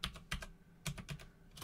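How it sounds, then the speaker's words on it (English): Keys tapped on a computer keyboard while entering a password at a Linux terminal, a few quick clustered clicks then a pause and another burst, close and fairly quiet, with no talking. "type in your current password"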